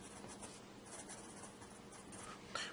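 Palomino ForestChoice pencil writing on paper, a steady close scratchy graphite stroke running continuously with small rhythmic swells and a brief sharper scrape near the end.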